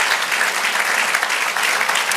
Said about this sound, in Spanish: Del aplauso al Señor.